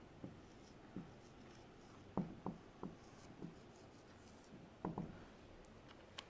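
A pen scratches on paper while the Bismillah is written onto a taweez amulet, giving a quiet, close series of short irregular strokes and taps over a faint room hush.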